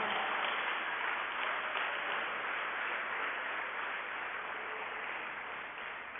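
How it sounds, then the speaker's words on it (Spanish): A church congregation applauding after a sermon, a dense, continuous wash of clapping that holds steady throughout and fades slightly toward the end. "Denle fuerte estas palmas"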